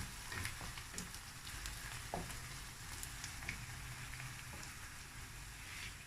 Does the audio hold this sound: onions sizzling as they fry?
yes